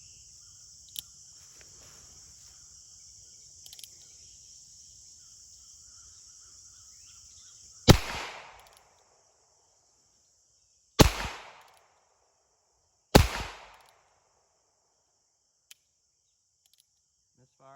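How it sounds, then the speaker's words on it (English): Three sharp, loud .22 LR gunshots from a Heritage Barkeep revolver fire outdoors several seconds apart, each with a short echoing tail, over a steady high whine of crickets. "now we're going to shoot the Heritage and see how it is different"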